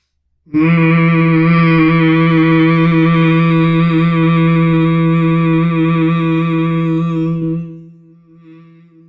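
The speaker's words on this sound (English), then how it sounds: "you're going to make a deep humming sound" A deep, steady humming voice holds one low note for about seven seconds, alone and fairly loud, then fades out.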